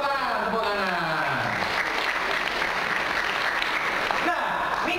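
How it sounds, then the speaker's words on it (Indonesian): A seminar audience breaks into loud, sustained applause filling the room, with a voice speaking over the first moments of the clapping. "Tepuk tangan, tepuk tangan."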